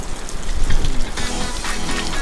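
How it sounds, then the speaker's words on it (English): Steady, close rain patters and splashes on surfaces outdoors in Sydney, a dense continuous hiss with no voices. "it's raining."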